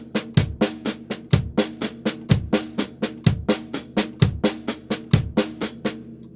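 Drum playing steady sixteenth notes with a left-handed accent on the E of each beat, a crisp rhythmic pattern of even strokes with regular stronger hits, close and clear with no talking.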